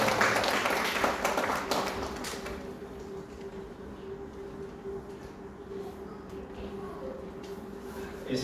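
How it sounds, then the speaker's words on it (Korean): A church congregation claps for a newly welcomed member, a dense burst of applause at the start that thins into scattered clapping and room murmur. "우리 격려할 때 큰 박수로 보내주시기 바랍니다"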